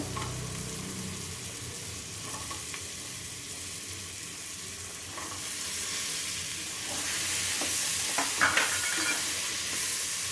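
Beans, carrots and other vegetables fry in hot oil with turmeric and salt for brinji rice, giving a loud, steady close-up sizzle and hiss that swells partway through, with a few scraping stirs and no talking.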